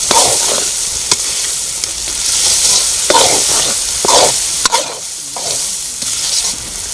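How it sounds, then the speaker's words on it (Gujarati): Green olo, a Kathiawadi eggplant mixture, being stirred in a cooking pan: steady scraping strokes with a spoon over a continuous close sizzle, with no talking. "હવે જે સરખું મિક્સ થઈ જાય એટલે આપણે એને સતત હલાવતા રહીશું જેથી કરીને નીચે બેસી ન જાય"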